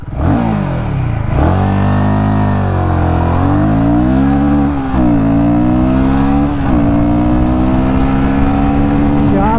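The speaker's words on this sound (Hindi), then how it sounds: "स्पोर्ट मोड में इस बाइक को 0 to 60, 80, 100, 120 जाने में क्या टाइम लगता है चलिए दिखा देता हूँ।" Royal Enfield Guerrilla 450 motorcycle accelerating hard in sport mode, its engine loud and close, climbing in pitch through repeated gear shifts with short drops between them.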